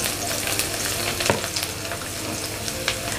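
Sliced garlic frying in oil in a pan gives a loud, close, continuous sizzle broken by sharp crackles and stirring scrapes, with no speech.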